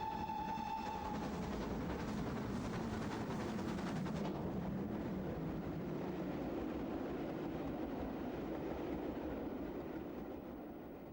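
GWR Castle class steam locomotive Nunney Castle, built in 1934, hauls a train through the Chilterns from Paddington to Stratford-upon-Avon, with a brief whistle at the start and a loud, steady rolling rumble of wheels and carriages that fades slightly at the end.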